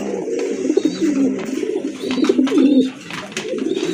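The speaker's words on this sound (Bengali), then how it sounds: "তো এটা হচ্ছে 3 নাম্বার পেয়ার রেসার কবুতরের" Racer pigeons coo close by in low, rolling, throaty calls that overlap continuously, with a few faint higher chirps in the background.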